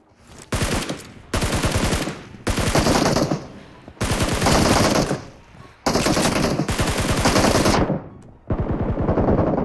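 Uzi submachine gun fired in bursts in a shooter video game: loud, close rapid-fire rattles in five long sustained sprays separated by brief gaps, with a shorter burst at the end.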